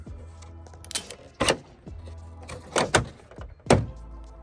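An Audi A4 B8 tail light is pushed into its mounting, producing a series of sharp plastic clunks and knocks close by, with a handful of distinct impacts spaced over a few seconds and no talking.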